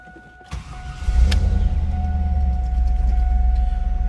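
A 1997 Chevrolet Camaro Z28 30th Anniversary with LT1 V8 engine and 6-speed manual cranks briefly, then catches into a deep, close idle that settles into a steady low rumble, preceded by faint hum and a click.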